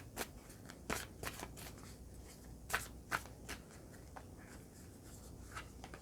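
Animal spirit oracle cards are shuffled and drawn close up, giving soft, quiet, scattered flicks and slides of card stock in irregular bursts with no talking.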